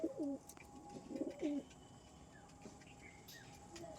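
Domestic pigeons give a few soft, throaty coos close by in the first seconds, then fade to faint chirps and ambient background.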